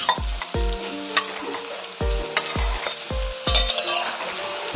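Shrimp with turmeric and salt fry in a pan, with a soft steady sizzle broken by repeated metallic clinks and scrapes of a spoon stirring against the pan at irregular intervals. No one speaks.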